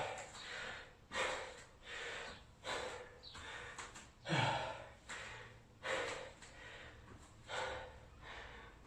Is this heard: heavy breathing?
yes